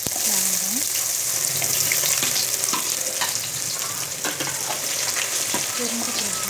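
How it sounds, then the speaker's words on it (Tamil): Whole cardamom, cinnamon and cloves fry in hot oil for Hyderabadi biryani, giving a steady close sizzle with a few scraping stirs and light clinks throughout. "ஆயில் ஊற்றி ரெண்டு ஏலக்காய், பட்டை, லவங்கம்,"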